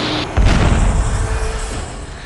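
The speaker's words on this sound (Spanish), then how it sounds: "El impacto produce una explosión y el avión pequeño estalla en llamas" A small turboprop plane bursts into flames after being struck by a Boeing 737 on a runway: one loud low boom, followed by a rolling rumble that fades over two seconds.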